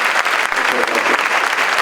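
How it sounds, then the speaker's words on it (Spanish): Audience applause at a lecture on the value of reading and educating, honoring a speaking professor: steady, dense clapping from a full room, loud and continuous throughout without a break. "Le damos un aplauso."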